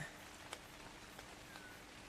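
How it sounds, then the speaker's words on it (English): Steady, quiet rainfall in the survival game ARK: Survival Evolved, forming a soft continuous hiss with a few faint drop ticks. "Ah, now it's raining."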